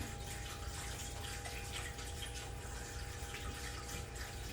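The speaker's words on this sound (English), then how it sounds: "this one now is operating as a gushing spring" Baptismal water feature set up as a gushing spring, running water with a steady continuous rush and a faint pump hum, close and alone.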